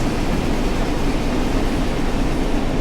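A steady, loud rumble of an intermodal freight train rolling past in a video game, continuous and close, with no voices over it.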